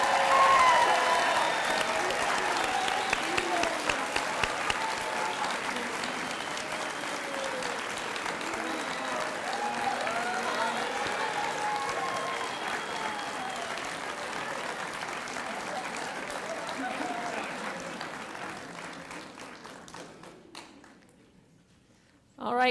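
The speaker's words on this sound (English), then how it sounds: "can you all stand up for one last round of applause?" A standing audience at a graduation ceremony for bridge program graduates gives a long, sustained round of applause, loud and full at first, then gradually thinning out over about twenty seconds before ending abruptly.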